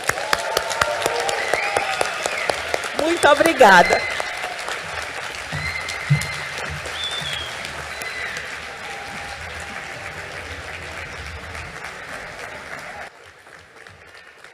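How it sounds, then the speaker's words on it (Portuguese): Final round of audience applause closing a national public defenders' congress, loud sustained clapping with cheers, a brief spoken thanks, then a sudden drop to quieter clapping. "Gostaria de contar com o apoio de vocês para uma grande salva de palmas final."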